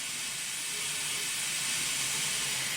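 Default steam locomotive sounds of a Coronation Scot engine in Train Simulator give a steady, loud, broad hiss of steam with a faint low rumble beneath.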